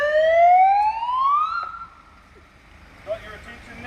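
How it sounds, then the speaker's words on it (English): A siren sounded at a protest outside Lower Hutt court gives one loud rising wail that climbs for about a second and a half, then cuts off, leaving quieter street noise. "Do the siren first to get their attention."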